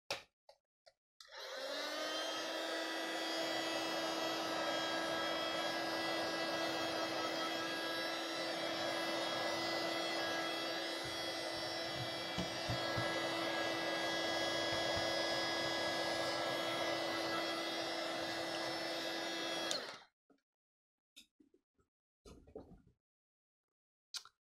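A hair dryer runs steadily for about eighteen seconds, drying paint in an art journal, with a constant whining tone and airy rush close by, then switches off, followed by a few faint clicks and taps.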